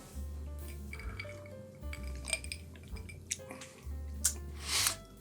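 Ice clinks and rattles against a glass as a gin, coffee liqueur and cream cocktail is stirred, light chinks and knocks close by over a low droning hum, with no talking.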